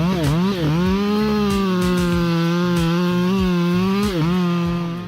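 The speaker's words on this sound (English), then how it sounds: "Chainsaws become the right choice because of their ability to work quickly and can take down even the toughest trees." A chainsaw engine revs loudly and steadily while cutting through trees in an overgrown area, its pitch dipping and rising as the chain bites into wood.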